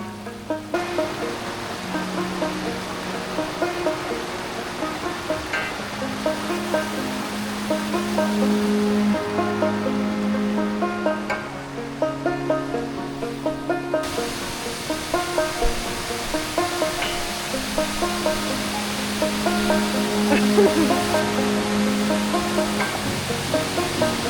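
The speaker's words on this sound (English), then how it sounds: "After the ride, we headed to Horseshoe Falls." Horseshoe Falls, a waterfall in Munising, Michigan, gives a steady, unbroken roar of falling water that holds a fairly even level from start to finish, with no talking.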